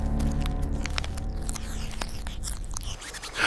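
Rats chewing through stacks of $100 bills in a warehouse in Colombia, a close, continuous gnawing with rapid crunchy bites and scraping over a low rumble.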